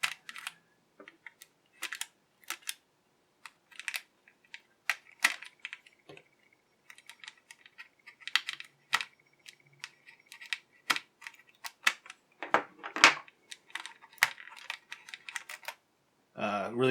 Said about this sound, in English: I'm going to use my X-Acto knife again for this tape.